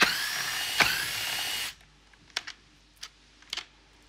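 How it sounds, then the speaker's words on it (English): A power tool whirs loudly and steadily for over a second while removing cap screws from a Paslode IM50S cordless nailer, then stops, leaving a few sharp close metallic clicks and taps. "Remove the four cap screws."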